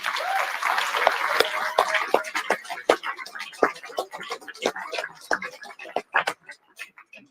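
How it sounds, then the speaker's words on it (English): Scattered, uneven claps from an audience honoring Catalyst Award recipients, individual sharp hand slaps sounding sparse and irregular, fuller at the start and thinning out toward the end. "Please join me in giving a well-deserved round of applause to this year's Catalyst Award recipients."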